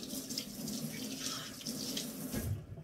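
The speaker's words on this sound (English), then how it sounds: "Washing my hands off." Tap water runs steadily into a sink as hands are rinsed after breading oyster mushrooms, a close, soft splashing gush that shifts slightly as the hands move under the stream.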